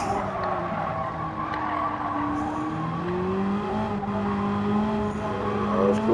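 A yellow Ferrari engine in the racing game Gran Turismo 7, a steady droning roar with rising and falling engine pitch as it revs, continuous and loud, with faint tire noise.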